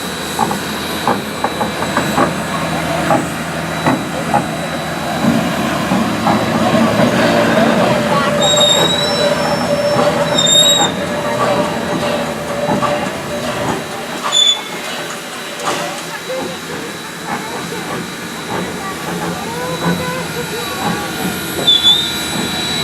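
A coal-fired steam train rotates on a turntable's central bearing, giving a loud continuous rumble with metallic squeals and clanks from the wheels and machinery, and people talk at times in the background.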